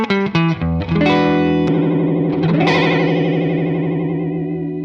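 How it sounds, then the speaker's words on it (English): Clean electric guitar played through a Catalinbread Bitters multi-effects pedal, several quick plucked notes then sustained ringing chords with a wavering, chorus-like shimmer, loud and alone. "We'll go back to our clean tone again."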